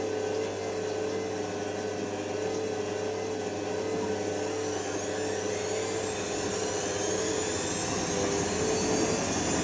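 Washing machine ramping into its spin cycle after the final rinse, a steady close whine and hum with a rising pitch as the drum speeds up, no speech.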